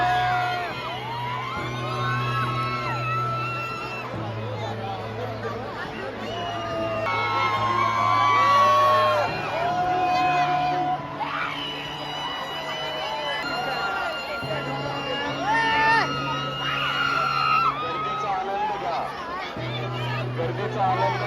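Busy crowd at Dagdusheth temple in Pune, a steady hubbub of many voices with scattered shouts and cheers. Amplified talk and other voices run over the babble the whole time.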